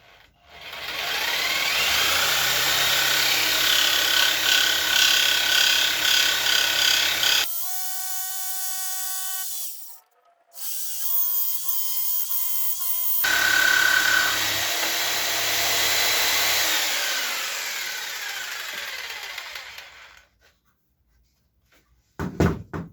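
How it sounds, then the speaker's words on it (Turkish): Jigsaw cutting wood along drawn lines for a wooden Bluetooth speaker, a loud buzzing rasp that stops abruptly, gives way to a brief high whine and a sharp clatter, then resumes before fading into near silence with a few closing knocks. "Bu çizdiğim çizgilerden dekopaj ile keseceğim."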